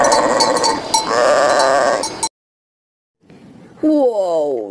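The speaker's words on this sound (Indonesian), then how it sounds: "Nah, kalau yang ini kambing." A goat bleats loudly in an animal-cleaning video game, giving a few quivering, wavering cries at the end. Before it comes a dense stretch of game sound, then a brief silence.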